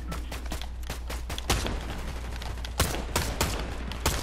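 Gunfire in Fortnite, rapid bursts of shots with several sharper loud cracks standing out, dense and continuous with no talking.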